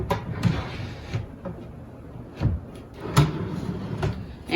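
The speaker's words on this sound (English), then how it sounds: "we're gonna have to take the drawer out to get to the last one of these" A drawer in a wooden kitchen island built from 2x4s and plywood slides out in several close knocks and scrapes, irregular wooden bumps spread across a few seconds.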